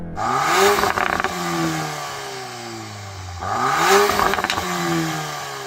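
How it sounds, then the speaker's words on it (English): A Volkswagen Golf R engine is revved hard twice, each blip climbing to the limiter and then falling back, loud and close, with no voices. "I'm going to start off by revving up this Golf R."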